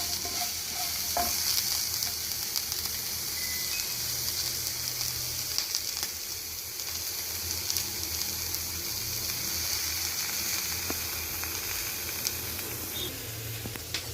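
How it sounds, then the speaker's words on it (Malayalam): Green chillies sauté in a pan for a simple pickle, giving off a steady close sizzle and hiss for the whole time. Occasional stirring scrapes can be heard, and there is no talk. "ഇത് നന്നായിട്ട് ഇതൊന്ന് വഴറ്റുക"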